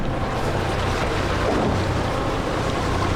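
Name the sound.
sailboat motoring under engine power through a cut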